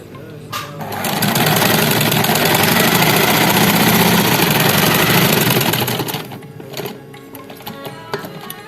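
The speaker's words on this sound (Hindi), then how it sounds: "चलें अब सिलाई करते हैं।" A sewing machine runs steadily for about five seconds while stitching a fabric collar with a slit, starting and stopping abruptly, with a soft voice briefly heard before and after the motor's whir.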